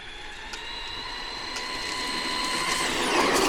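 A Traxxas Bigfoot 4x4 brushless RC monster truck runs wide open uphill, giving a steady high-pitched motor whine with faint ticking and rattles that grows slightly louder toward the end, with no voices.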